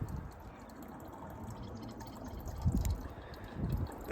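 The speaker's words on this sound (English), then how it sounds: "The joys of water filtering." Quiet trickling and dripping water, faint and close, with a couple of slightly louder pours as water passes through a portable filter on a Pacific Crest Trail hike.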